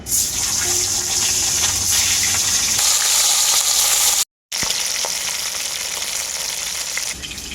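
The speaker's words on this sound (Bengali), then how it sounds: "বাকি মাছগুলো আমি একইভাবে ভেজে নেব" Bhetki fish pieces frying in oil make a steady, loud, close sizzle, broken by a brief silent gap, then a crackling hiss that continues more unevenly.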